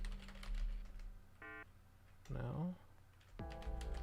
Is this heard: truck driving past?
no